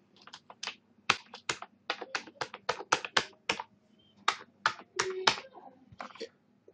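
Rapid clatter of keys as a password is typed on a computer keyboard, about two dozen close, crisp taps in uneven bursts with short pauses, no voices.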